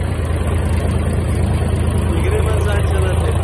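A tractor labours through a soft, waterlogged paddy field, its heavy engine droning loudly and steadily up close with a constant low rumble.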